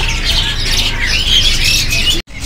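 A dense chorus of canaries at a bird market chirping and squawking nonstop, bright and busy, with a brief dropout near the end.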